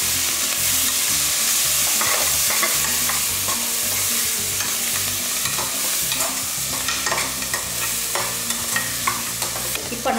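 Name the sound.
onions and tomatoes sautéing in pan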